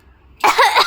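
A single sharp cough bursts out close to the microphone after a moment of near-silence.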